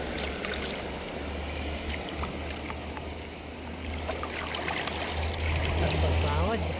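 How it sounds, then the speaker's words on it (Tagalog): Big sea waves wash and churn steadily nearby at the seashore under a low rumble, with people talking faintly over the water. "Laki ng alon guys."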